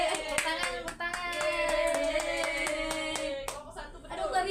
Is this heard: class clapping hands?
yes